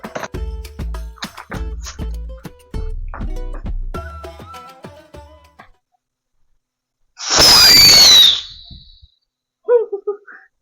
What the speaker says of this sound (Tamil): சிம்பிளா ஒரு விசில் மாதிரி வந்துட்டு கோழி முட்டை வச்சிருச்சு பாருங்க.